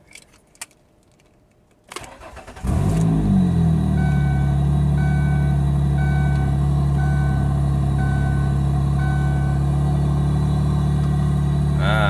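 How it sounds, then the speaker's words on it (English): A car engine with a big exhaust leak cranks and starts after a few faint clicks, then settles into a loud, steady idle with a rough, rumbling low drone. "this one has a big exhaust leak from the sounds of it"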